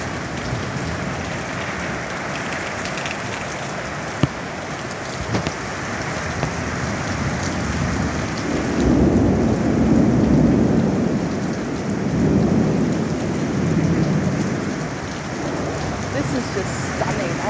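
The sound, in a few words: thunderstorm with rain and thunder in Kambalda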